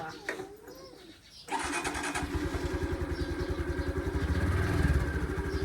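A Honda Wave 110i motorcycle engine starts and idles close by with a steady, throbbing putter that grows slightly louder, after a brief stretch of quieter background sound.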